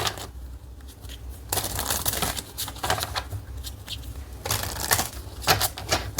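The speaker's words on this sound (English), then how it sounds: "let me shuffle it once again." A deck of cards is shuffled by hand in a quiet room, with bursts of rapid riffling and flicking clicks that come and go over several seconds, close and moderately loud.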